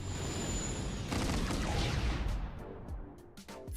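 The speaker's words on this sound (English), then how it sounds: "The turtle ship is shooting its own ships?" Laser cannon fire from a turtle ship in a Star Wars holotable strategy game, a dense sustained barrage of blasts and booms that thins into scattered sharp shots toward the end.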